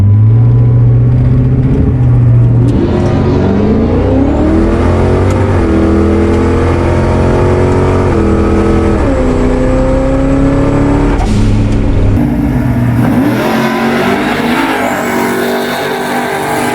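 A Hot Rod Lincoln and a wheel-standing fourth-generation Chevy Camaro race at a racetrack, their engines loud and close, revving and climbing in pitch through repeated pulls with a steady heavy rumble throughout.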